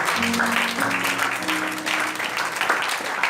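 A church congregation applauds during a sermon, a steady wash of clapping lasting a few seconds at moderate volume.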